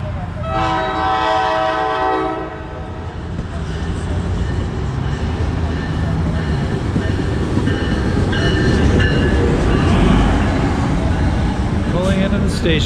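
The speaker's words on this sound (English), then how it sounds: "So here comes the southbound train." A southbound train rumbles past close by near Asbury Park station, New Jersey, its horn blaring briefly at the start, followed by a sustained roar and rattling wheels.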